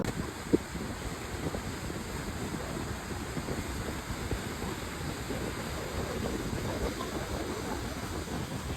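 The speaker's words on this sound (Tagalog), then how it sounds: "Napakahangin. Very much windy dito." Strong, constant wind buffeting the microphone at Niagara Falls, a broad steady roar with low rumble and no pauses, loud and close.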